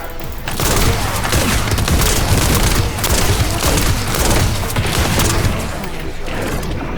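Rapid gunfire from the video game The First Descendant rattles on continuously in dense, overlapping bursts and booms, loud and busy throughout.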